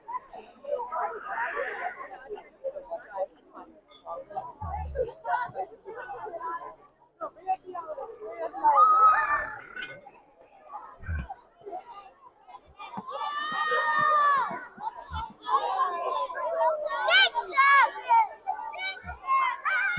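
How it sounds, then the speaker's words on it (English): A crowd gathers and thickens on a busy Regina street corner on Albert Street in November, with a steady babble of many voices, shuffling and children's chatter close around, and one person talking nearby. "Crowd's getting a little thicker."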